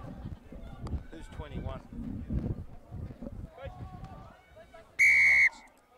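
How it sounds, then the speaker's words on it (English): A referee's whistle blows once in a loud, shrill burst near the end, over crowd babble and distant shouting at a Premier Grade rugby match between ARKs and Cavaliers. "So the whistle's blown."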